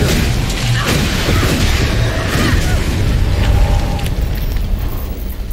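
An exploding parasite enemy in the video game Flintlock: The Siege of Dawn bursts in a loud, booming blast, followed by a dense, rumbling crash that fades slowly.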